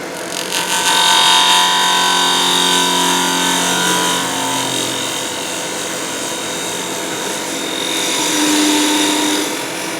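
Wooden tenon being flattened and reduced in diameter on a multi-axis turning setup, giving a steady loud whirring tool drone with shifting high tones that runs continuously throughout, no talk.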